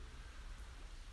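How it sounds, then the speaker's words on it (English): Light rain patters steadily on a shelter during a camping stop on the Ice Age Trail, a soft, even hiss of drops with no voices, faint and close. "It's raining a little bit, but it'll stop soon, hopefully."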